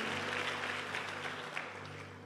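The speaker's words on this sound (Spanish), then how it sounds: "si le va a dar un aplauso al Señor, apláudale de verdad" Congregation clapping during a church service, a steady wash of many hands sustained throughout, with a low hum underneath and no clear talk.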